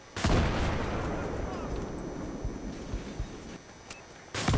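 A C4 charge blows up in Battlefield 3 with a loud, close blast, followed by a long rumbling decay and a few small cracks, then a second sharp boom right at the end.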